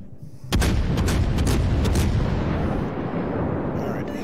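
Heavy warship guns fire in World of Warships: a loud booming salvo strikes at half a second, followed by several rapid cracking reports and a long, sustained roaring rumble that slowly subsides.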